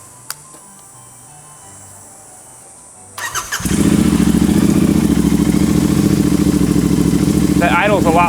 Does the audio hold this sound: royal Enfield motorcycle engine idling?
yes